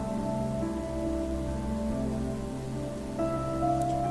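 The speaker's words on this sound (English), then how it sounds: "ignoring the rain that had started to wet her dress" Rain falls as an audio drama sound effect, a soft constant patter under a low tonal hum, steady and calm with no voices.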